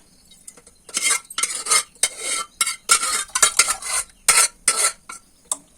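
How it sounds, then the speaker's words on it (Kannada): Loud, repeated scraping strokes of a metal spoon stirring cooked lentils with their water into a pot, in quick bursts with brief pauses, no talking. "ಅದ್ರ ಬೇಳೆ ನೀರು ಸಮೇತ ಸೇರಿಸ್ಕೊತಿದ್ದೀನಿ ಇದಕ್ಕೆ"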